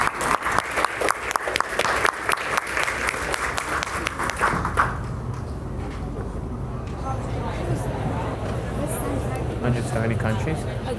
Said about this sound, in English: Please give a big round of applause for Nargiz Babayeva, Mohammed Mamadov, Celin